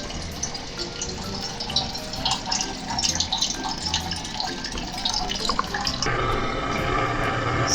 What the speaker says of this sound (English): Now we're gonna open the water and we're gonna boil it and put the ingredients in.